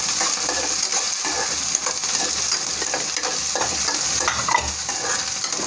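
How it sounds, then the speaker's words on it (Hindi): Finely chopped green chilies and ginger sautéing in a pan for a matar kachori filling: a loud, continuous sizzle with quick stirring scrapes throughout and no voices. "दो मैंने हरी मिर्ची ली है बारीक काटी है इसको भी हम इसी तरह से भून देंगे"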